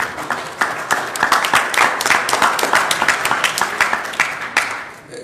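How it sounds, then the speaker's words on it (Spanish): An audience at a weekly political meeting breaks into applause, dense overlapping claps that hold strong and fairly close, then fade slightly toward the end. "no les agradezco los aplausos"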